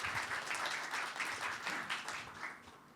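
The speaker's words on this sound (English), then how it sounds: "Please give him a big round of applause." A symposium audience claps steadily to welcome a deputy director to the stage, a continuous even wash of many hands applauding throughout, with no speech.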